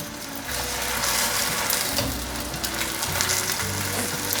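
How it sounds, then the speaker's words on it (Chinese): Potato and seaweed vegetable spring rolls made with tofu pan-fry in a pan, a steady close sizzle and crackle of hot oil running continuously with no talk. "继续来煎最后一面"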